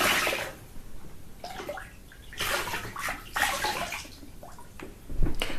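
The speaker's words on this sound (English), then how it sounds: "then we can rinse our feet" Feet are rinsed in a basin of water during a guided meditation session: repeated sloshing splashes and trickles come in bursts with quiet pauses between them, close by and with no talking.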